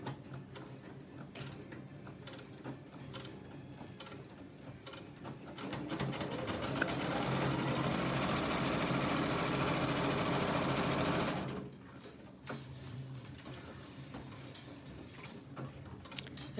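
Sewing machine stitching elastic into a fabric face mask, a steady rapid mechanical whir that speeds up into a louder, denser run mid-clip, then drops back to quieter ticking, with no talk.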